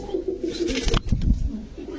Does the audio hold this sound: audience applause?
no